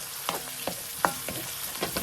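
Garlic and onion saute in a pan for kare-kare, a steady sizzle broken by several distinct spatula scrapes and stirring strokes at an uneven rhythm, up close.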